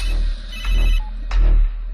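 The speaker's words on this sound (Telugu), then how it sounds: "ఫోన్ వస్తుంది చూడు, లిఫ్ట్ చేయి." A phone ringtone sounds loud and close in two repeated pulses with a brief gap between them, heard alone with no talk.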